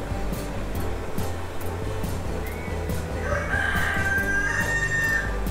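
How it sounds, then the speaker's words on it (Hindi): A rooster crows in the zoo-building video game Let's Build a Zoo, a drawn-out call rising over a busy ambient bed of game sounds and soft wave-like background noise. "अरे बोला मुर्गा बोला"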